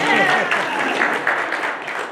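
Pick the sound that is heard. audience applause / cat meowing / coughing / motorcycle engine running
audience applause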